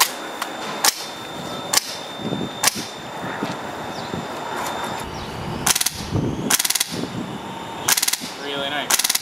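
A Polar Star airsoft gun firing, with sharp, crisp pops: spaced single shots at first, then tight rapid bursts later on, close and clear, with faint voices in the background.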